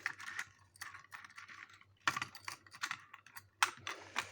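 A door lock mechanism clicks in close, irregular bursts of sharp metallic ticks with short pauses between them. No voices are heard.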